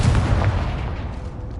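A Confringo fire spell bursts in Hogwarts Legacy, a single loud, close blast with a heavy low boom that decays over about a second and a half, with no voices over it.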